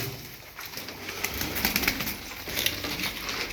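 Tumbler pigeons kept in a coop coo softly with some wing flutters, steady and close, with no talking.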